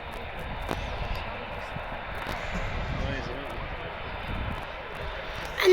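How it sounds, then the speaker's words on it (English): An EasyJet airliner takes off at Manchester Airport, its engines a steady broad roar heard from a distance while people talk nearby. "Right now you should see an EasyJet taking off."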